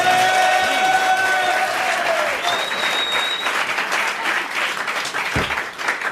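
A studio audience at a 1992 French television talk show breaks into loud, sustained applause. The dense clapping fills the whole stretch, tapering slightly toward the end with some voices beneath it.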